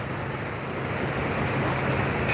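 Ocean surf rolls in as a steady, broad wash at a Hawaii surf contest, continuous and moderately loud with no distinct breaks, hinting at distant waves and wind with no one talking.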